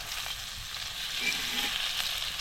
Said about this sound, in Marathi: मासा आपण असं बघायचा भाजला आहे का एका बाजून बघा मस्त भाजला आहे आणि मग असा कावीचा टाकायचा आणि असा उलटायचा